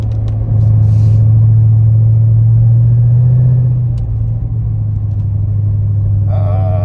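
A car engine idles and rumbles with a deep, throaty exhaust note with the exhaust valves open, rising slightly in pitch partway through before settling back, close by.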